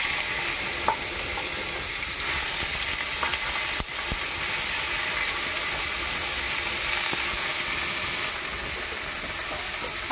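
Food frying in mustard oil on a modern stove, a dense, loud and constant sizzle with a steady roar that holds evenly throughout.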